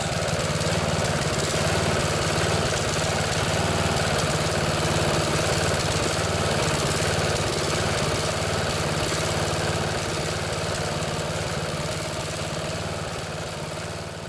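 A Briggs & Stratton lawn mower engine, an older mower needing some carburetor work, idles steadily and loudly up close, a continuous rough engine drone with no talking, easing slightly in level near the end.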